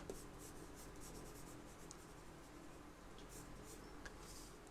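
A pencil worked on its side across paper while shading curls of hair in a portrait drawing, a steady soft scratchy rubbing that runs throughout, close and fairly quiet with no talking.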